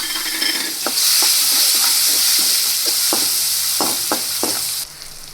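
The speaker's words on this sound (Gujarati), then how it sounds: "હવે લસણને આપણે થોડીવાર માટે સાતળી લેશું।" Garlic sautés in a hot pan for Gujarati alvi leaf bhaji, giving a steady close sizzle with intermittent scraping and clinking from stirring. No voices are heard.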